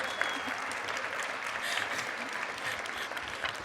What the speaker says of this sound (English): Yeah, that was a clap.